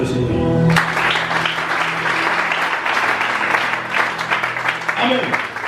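A church congregation at a teaching service bursts into sustained applause, a loud, dense wash of many hands clapping that begins abruptly after a short voice and continues steadily throughout, with scattered voices audible beneath it.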